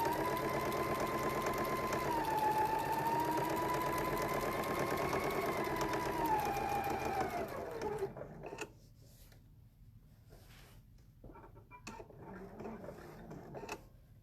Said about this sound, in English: I'm going to make sure that gets top stitched closed